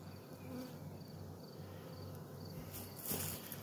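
An evening honeybee swarm gives off a soft, continuous buzzing hum from a fair distance, faint and steady throughout with a slight swell near the end.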